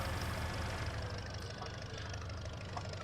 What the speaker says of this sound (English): turn off the engine here and put the brake on